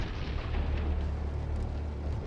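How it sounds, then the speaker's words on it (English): Tank ammunition cooking off after a drone strike, heard as a continuous low rumbling roar of burning and bursting that stays steady and loud throughout, with no talk. "when the fire reaches the ammunition, we see bright sparks from the explosion"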